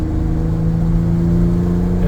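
A Ford Bronco Raptor with the Raptor Performance Pack accelerates, its engine droning loud and close at a steady pitch; the hard gear shift is not clearly marked.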